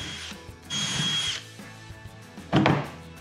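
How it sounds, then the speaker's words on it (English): Power drill with a bit boring out rivets on a Coleman crank assembly with a left-hand chain drive, two short bursts of high whining drilling separated by a pause, close and loud. "we'll go ahead and drill these rivets using a drill bit, just slightly larger than the inside of the rivet head you're gonna drill"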